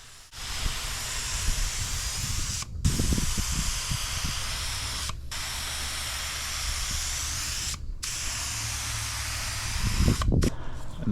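Second coat of clear finish being sprayed onto a kitchen table, long continuous loud hissing bursts separated by brief silent gaps where the trigger is released, with faint low knocks beneath.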